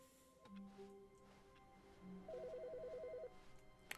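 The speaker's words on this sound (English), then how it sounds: "I will ignore that phone for now." A telephone rings in the video game The Stanley Parable: a single electronic trill burst in the middle, with faint tones and clicks around it and no one speaking.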